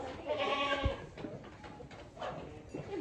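Young goat kids bleat on a farm, a few short nasal cries at moderate distance over background noise and brief voices.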